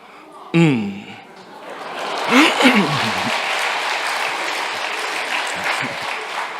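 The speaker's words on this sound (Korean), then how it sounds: "박수 감사한데" A church congregation at a Sunday afternoon worship service breaks into applause, a brief voice and a chuckle first, then a swelling wave of clapping that carries steadily for several seconds.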